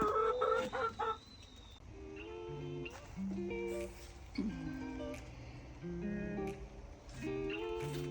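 A flock of ten hens on an allotment cluck and murmur close by in a string of short calls.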